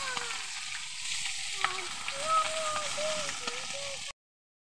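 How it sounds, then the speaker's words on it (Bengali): A roe-filled fish coated in turmeric fries in hot oil with a close, steady sizzle and occasional crackles, a voice faintly present beneath, before the sound cuts off abruptly into silence. "তো চলো মাছটা আমি ভেজে নিই।"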